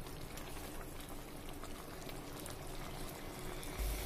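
Vermicelli upma simmers in water in a pan, producing a steady, soft bubbling and crackling hiss that stays even throughout, with a brief louder bump at the end.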